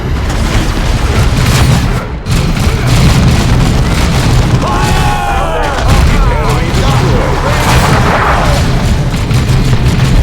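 Booming artillery blasts and gunfire from the Warhammer 40,000: Chaos Rising video game roll through a loud, dense battlefield mix, with continuous low rumble and sharp bursts under music and unit voices.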